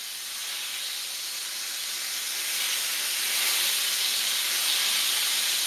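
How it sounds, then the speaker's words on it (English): Steak sears in a hot pan with a loud, steady, close sizzle, a dense hiss that swells slightly and never lets up. "So that sound is one of my favorite things about cooking meat."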